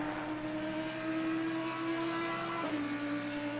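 An Audi and a Mustang race cars at Barcelona circuit, heard as a continuous engine drone with a steady tonal whine that shifts pitch slightly as they run along the track, moderately distant.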